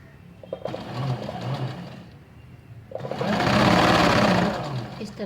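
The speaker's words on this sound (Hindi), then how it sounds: "मैंने कुर्ती की उल्टी साइड से मैं सिलाई कर रही हूँ" A sewing machine stitches a kurti from the reverse side in two runs. A shorter burst comes first, then a pause, then a longer, louder stretch of rapid, steady mechanical clatter close by.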